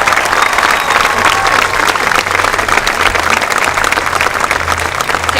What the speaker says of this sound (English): Please join me in applause acknowledging the accomplishments of the class of 2015